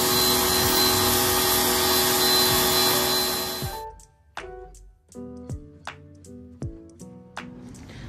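An Ingco 1400W high pressure washer (HPWR14008GP) runs with a loud, steady broadband roar for about four seconds, then cuts off. Several short clicks and knocks follow in near silence.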